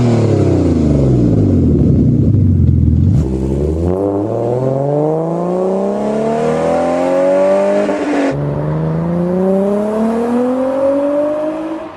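An Alfa Romeo Busso V6 engine revs hard and loud and close, climbing in pitch through several sweeping pulls with brief drops between gear changes.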